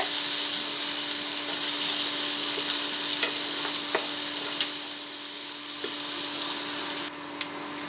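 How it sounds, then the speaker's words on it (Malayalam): Onion, green chillies and curry leaves sizzle steadily in a hot pan, a constant bright frying hiss with occasional soft stirring clicks and a slight drop in level near the end. "ഉള്ളിയും പച്ചമുളകും കരിവേപ്പില ഇട്ട് കൊടുക്കണം കേട്ടോ. അത് കുറച്ച് ഫ്രൈ ആവട്ടെ."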